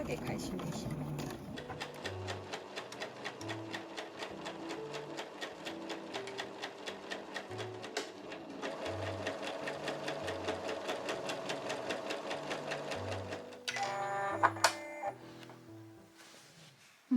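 A home sewing machine whirs in rapid, even stitching runs through canvas, pausing and restarting a few times for backstitching, with a sharper clack of handling near the end.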